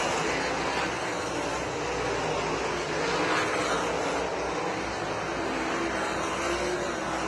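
Race cars roar around a clay oval at Montpelier Motor Speedway during a night feature, a constant dense engine drone from the field holding steady and loud throughout.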